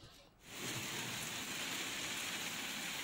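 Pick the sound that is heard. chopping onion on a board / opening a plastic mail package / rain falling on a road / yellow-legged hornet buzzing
rain falling on a road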